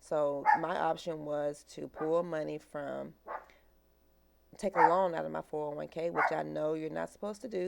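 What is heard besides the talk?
dog barking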